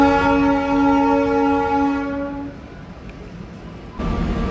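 Darjeeling toy train pulling into Kurseong station: a sustained, harmonically rich horn blast holds for about two seconds, then fades into a steady rumble of wheels and carriages before a louder burst of noise near the end.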